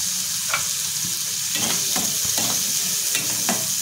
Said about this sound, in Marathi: 2 मिनिटं आपण मसाल्यामध्ये असे फ्राय करून घेऊया।